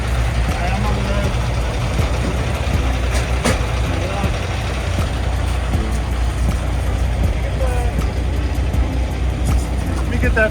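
A vehicle drives on an ice-storm road with a constant loud engine and road rumble, a sharp knock partway through, and people talking over it.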